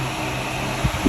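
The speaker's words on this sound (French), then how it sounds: "Là on a 4 ventilateurs ici, 1, 2, 3, 4 qui aspirent l'air des cartes pour la pousser encore plus." Steady whirring hum of four computer cooling fans drawing air off the graphics cards in a crypto mining rig, close and continuous, with a couple of faint low bumps near the end.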